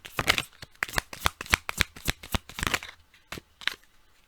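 A deck of reading cards is shuffled nearby in quick riffling bursts of crisp paper slaps, then slows to a few separate flicks as cards are pulled.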